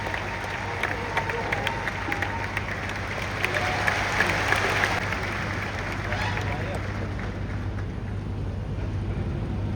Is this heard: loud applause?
yes